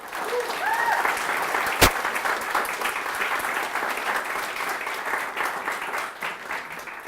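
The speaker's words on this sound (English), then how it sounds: "Give yourselves a huge round of applause." Audience applause at a Major League Hacking hackathon conference event, a dense sustained wash of clapping from a large crowd that holds steady throughout, with a sharp clap or knock standing out near the start.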